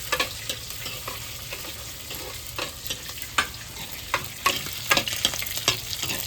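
Curry leaves and green chillies stirred in a hot pan for a Sunday chicken sukka, a bright steady sizzle with frequent scraping spoon strokes that grow busier toward the end, nearby.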